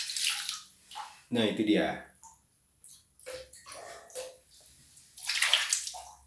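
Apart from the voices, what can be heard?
water poured onto a bathroom floor during cleaning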